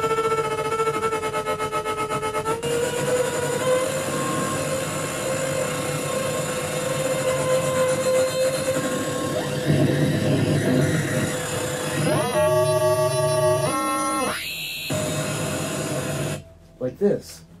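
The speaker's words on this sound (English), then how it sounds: "it's Kastle, K-A-S-T-L-E, and it makes all kinds of noise." A Kastle synthesizer makes noisy electronic textures: sustained buzzing drones and hiss, then a rapidly stepping, rising-and-falling sequence of tones near the end before cutting out abruptly, with scattered glitches.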